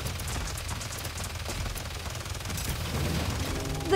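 Sustained automatic gunfire in the video game Paladins rattles as a dense, continuous fusillade with low booms underneath, at moderate level and without talk over it.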